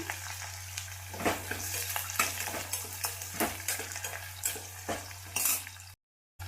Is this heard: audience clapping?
no